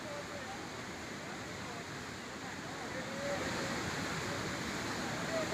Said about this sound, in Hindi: नदी का बहाव आप देख लीजिए कि कितना तेज है